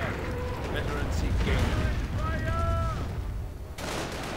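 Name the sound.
gunfire in a WWII strategy video game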